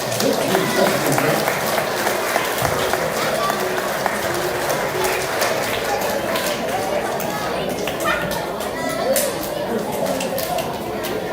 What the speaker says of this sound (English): let's have a round of applause for our Garfield staff runners